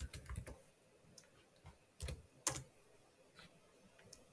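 Soft clicks from a computer keyboard as a search keyword is entered: a quick cluster of keystrokes, then a few isolated presses, quiet and nearby with no voices.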